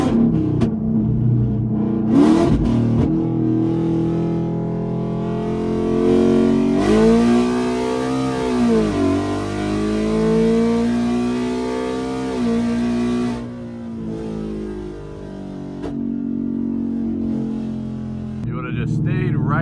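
A naturally aspirated, E85-tuned Ford Mustang S650 engine drones steadily, then rises and falls through a loud rev during a hard pull, heard from inside the car with sustained mechanical roar and no talking.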